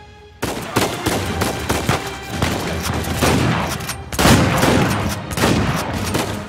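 Repeated heavy shotgun blasts in Uncharted 4, loud and close, a dense series of booming shots and impacts layered over continuous combat noise with no break.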